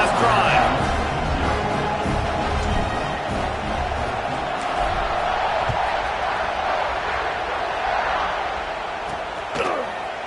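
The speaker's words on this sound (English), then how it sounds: "this crowd is feeling themselves after that last drive." A football stadium crowd during a game roars in a steady, dense wall of noise that fills the whole stretch, loud and continuous with a brief louder swell near the end.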